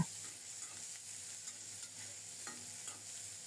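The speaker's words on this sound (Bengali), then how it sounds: "এবার সব মিলিয়ে খুব সুন্দর মতো ভেজে নেব" Chillies, garlic cloves and onion fry together in hot oil, a steady soft sizzle with faint scraping strokes of stirring at intervals, close and continuous with no voices.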